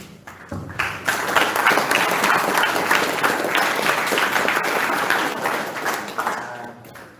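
An audience at a seminar on ecocide in the Mepago region of Papua breaks into sustained applause for a presenter. Dense clapping starts abruptly, holds steady for several seconds, then fades away, with no one speaking over it.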